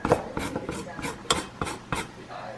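A handheld zester scrapes the peel of a lime in about eight quick rasping strokes, close and crisp, each a short scratchy burst with brief gaps between.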